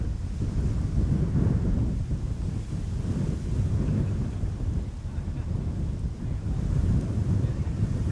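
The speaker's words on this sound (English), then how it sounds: "my camera is most susceptible to shudder from the wind, which is now blowing from the right side onto it" Strong gusting wind buffets a camera microphone from the right side at Amsterdam Schiphol Airport, producing loud, continuous low rumbling that swells and dips in waves across the whole stretch.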